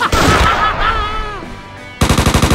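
Gunfire in the video game Mafia III, a loud rapid burst of automatic shots that bursts in abruptly after a moment of gruff, voice-like sound.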